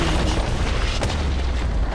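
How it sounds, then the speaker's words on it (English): A turret being destroyed in League of Legends: a loud, rumbling boom and explosion roar continuously for the whole moment, heavy and close, with a sharper burst near the middle. "Red team's turret has been destroyed"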